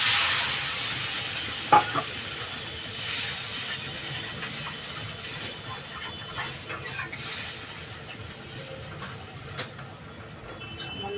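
Water poured onto sautéed spice masala in a pan sets off a hissing sizzle that settles into a steady, softer bubbling hiss, with a few utensil knocks, close and without talk.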